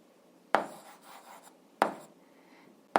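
Pen scratching on paper while noting down a physics calculation, heard as a few brief, sharp strokes spaced well apart in a quiet room, close and soft, with no talking.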